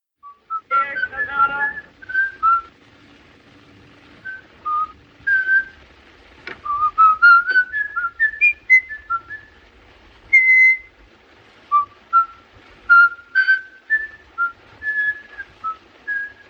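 A lone human whistler carries the melodic tune from the 1931 film M, phrase after phrase of clear, close whistled notes with brief breaths and pauses between them, over near silence.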